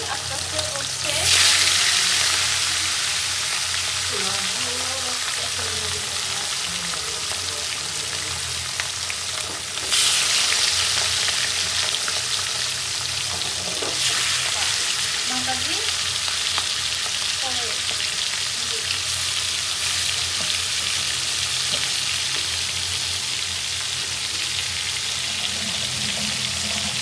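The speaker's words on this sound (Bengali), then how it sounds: "আর ট্যাংরা মাছ কিন্তু ওই চুলায় দিয়ে দিয়েছি, আস্তে আস্তে হচ্ছে।" Tengra fish frying slowly in a pan on a stove gives a steady, close sizzle that runs unbroken for nearly half a minute, with brief louder surges and faint scrapes now and then.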